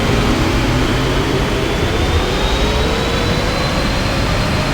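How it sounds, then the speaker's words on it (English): Boeing 777F freighter in a flight simulator game just after touchdown with thrust reversers deployed, a loud steady jet roar with a slowly rising whine throughout, alone without talk. "Reversers deployed."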